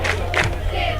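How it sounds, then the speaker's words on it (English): A student section crowd at a varsity high school NHFA DII final, LCA Chargers versus Northern Virginia Centurions, stands and cheers in a loud, continuous roar with shouts rising in bursts. "But everybody's standing up, everybody cheering."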